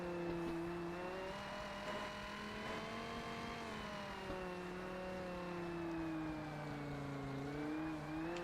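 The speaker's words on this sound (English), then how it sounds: "I can actually floor it in first gear after doing the little burnout, and it won't spin like crazy" A race car engine in Forza Motorsport holds at full throttle in first gear after a brief burnout, a loud, steady, continuous roar with harmonic pitch rising and falling slightly across the whole stretch, no voices over it.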